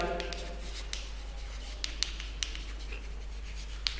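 A pen scratches across paper or a board during a physics lesson, with short light strokes and a few sharper taps over a steady low hum, close, and no talk.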